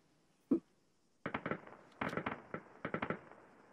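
An ARMA 3 weapon fires blaster rounds: one sharp crack, then three rapid bursts of several loud, close shots each, separated by short gaps.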